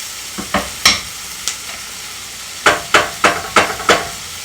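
Ground meat filling for shepherd's pie cooking in a pan, heard as a steady sizzle broken by a series of sharp scraping stirs of a utensil, close and loud, with no talking.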